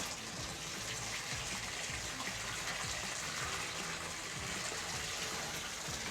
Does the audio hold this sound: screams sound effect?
no